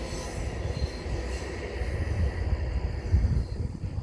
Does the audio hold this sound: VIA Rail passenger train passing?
yes